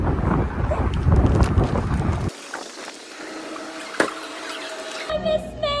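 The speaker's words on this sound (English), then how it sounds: "Oh my god, my hair is blowing in the wind" Wind buffets a microphone outdoors with loud rumbling gusts at first, then drops to a quieter breezy background with faint clicks and a brief tonal sound near the end.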